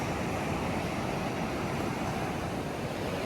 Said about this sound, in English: The ocean, the sand, the breeze, and the peace and quiet.